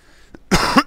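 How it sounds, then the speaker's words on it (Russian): A man coughs hard twice in quick succession, close and loud, after a short quiet lead-in with a faint click. "Что-то я сегодня кашляю, как сумасшедший"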